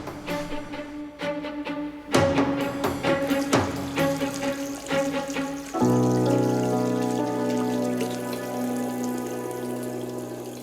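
Water from a running tap splashing into a very small wash basin, a steady rushing stream with scattered droplet hits and splashes, close and fairly loud throughout, with no voices.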